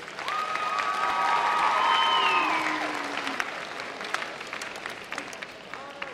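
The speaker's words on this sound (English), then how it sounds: "Let's have another huge round of applause for all of our convention volunteers." Sustained applause from a convention hall audience at the New York FFA Convention in Buffalo, honouring the volunteers, swelling through the middle and then tapering, with faint tonal sounds behind it.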